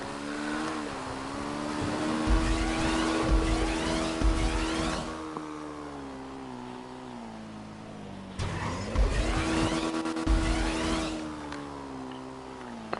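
A car in Grand Theft Auto Online pops wheelies, its engine revving up and down in two surging bursts with a tire squeal and clattering bumps between them, loud and close, with no talking.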